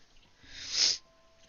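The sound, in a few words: sniffling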